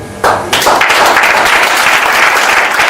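Dense applause and cheering from a church congregation honouring pastors, starting abruptly and swelling into a steady, loud wash of clapping that carries to the end.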